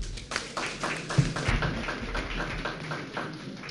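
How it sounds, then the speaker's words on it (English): Graduate students at a forum clap for themselves in a modest round of applause, scattered claps building into a denser patter, fairly close and at moderate volume. "You can clap for yourself"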